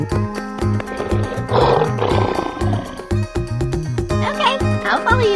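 A cartoon lion lets out a loud, rumbling roar over bouncy background music in an animated animal escape-room game.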